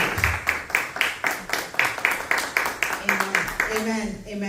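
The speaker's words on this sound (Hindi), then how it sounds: "आपकी भरपूर तालियों में।" Church congregation clapping along in a steady, rhythmic beat, about two claps per second, loud and close throughout, with a voice and tones entering near the end.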